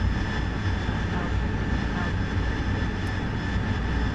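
A fighter jet's engine in the DCS World flight simulator roars steadily as a broad, constant drone with a thin high whine, unbroken for the whole stretch.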